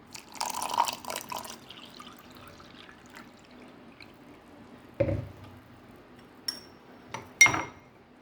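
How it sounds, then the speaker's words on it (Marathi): Cold water from the fridge pours into mango premix syrup in a glass, with a short splashy pour early on, then a few light clinks and drips over a quiet background. "फ्रीजमधलं थंड पाणी टाकूयात।"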